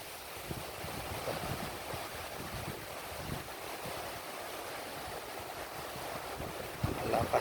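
Ocean surf rolls and washes continuously onto a beach with a broad, rumbling hiss and some wind buffeting the microphone, fairly distant and steady with no voices.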